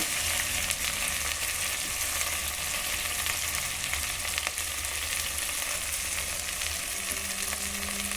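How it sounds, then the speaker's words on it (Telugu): Vegetables for khichdi frying in a pan, a steady loud sizzle lasting throughout, as water is poured in over the hot oil; no talking. "ఇప్పుడు నీళ్ళు పోసేసుకుందాం"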